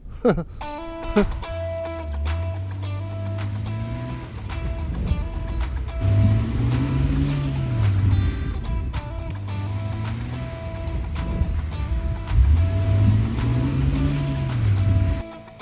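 A repaired lawn mower cuts grass with a steady, loud engine drone and rising, falling surges as it works, punctuated by sharp clicks and knocks, with a few faint voices underneath.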